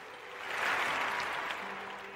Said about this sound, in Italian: E l'applauso naturalmente va alla nostra Monica Sarnelli.